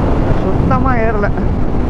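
Heavy wind blast roars steadily against the microphone while riding a stock Honda CBR150R motorcycle on an open road, loud and unbroken, with a short voice heard briefly under the rush.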